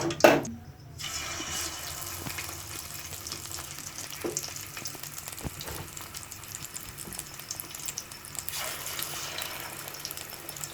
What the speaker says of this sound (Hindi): इस तरह हम इसको जो अच्छे से फ्राई कर लेते हैं।